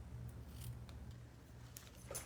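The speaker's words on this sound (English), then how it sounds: "I'm just going to go ahead and trim it." Scissors trim a piece of paper for a flower junk journal, giving a few faint, quiet snips over a low steady hum.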